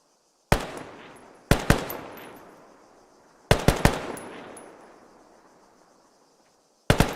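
Widely spaced gunshots and short bursts from a military video game training session, sharp cracks with long echoing decay, loud and close, with no talking.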